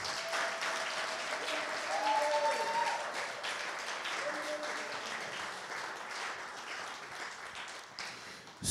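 A French-speaking church congregation applauds and acclaims during a service, with a steady, dense wash of clapping and cheering lasting throughout, while faint sustained tones sit underneath.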